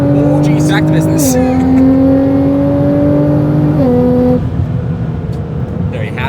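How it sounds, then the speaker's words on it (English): A car engine drones loudly with steady tones that shift pitch as it moves, then fades out, while people talk over it inside a vehicle on the road; the passing car is a Kia. "You just got passed by a Kia"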